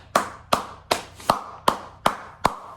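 Seven sharp, evenly spaced hand claps ring out at a slow, deliberate pace, close and distinct, with no other sound between them.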